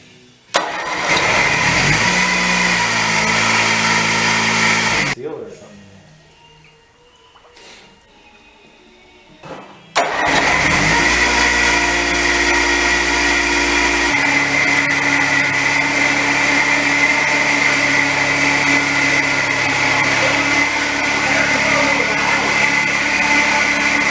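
Honda HT3813 lawn tractor engine cranking with the starter, catching and revving loudly, then dropping off briefly before firing again and settling into a steady, loud running drone.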